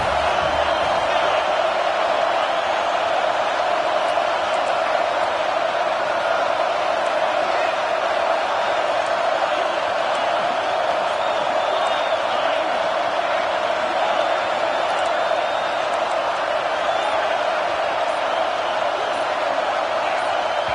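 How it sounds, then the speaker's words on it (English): Football stadium crowd at a game against UNC roaring steadily and loudly for the full length, a dense sustained wall of massed voices without breaks. "with this place rocking, the crowd forces a false start."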